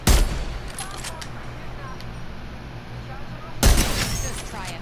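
Gunfire in Apex Legends during Vantage gameplay: a sharp, loud burst of shots opens, steady combat noise runs underneath, then another strong volley with ringing echoes hits near the end.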